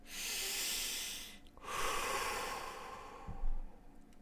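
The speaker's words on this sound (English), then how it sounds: "Deep breath in, deep breath out." A slow, deep breath in and out during a meditation, close and soft, with a long airy inhale, a brief pause, then a breathy exhale.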